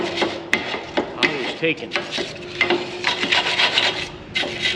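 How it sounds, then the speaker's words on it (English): A wire brush scrubs rusty clamp bolts in quick, repeated rasping strokes, with close, scratchy bursts and brief pauses between them. "wire brush them, lock nuts here."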